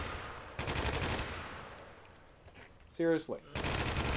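Bursts of rapid automatic gunfire from a gun in a zombie shooter video game, loud and close, with a short spoken word in a pause between the bursts.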